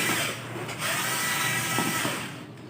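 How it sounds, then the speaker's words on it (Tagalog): A cordless drill on a low battery whines in one continuous, fairly loud burst during skim coat work, its pitch wavering before it fades at the end. "Kaya pahinto-hinto yung ating drill,"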